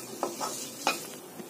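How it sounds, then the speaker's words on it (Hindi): A spoon scrapes and stirs potato halwa in a pan, with two distinct scraping strokes over a soft, low sizzle, close and quiet, with no voices. "अब हम इसको चलाते हुए 2 मिनट और पकाएंगे।"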